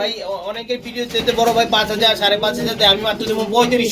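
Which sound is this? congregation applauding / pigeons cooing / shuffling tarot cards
pigeons cooing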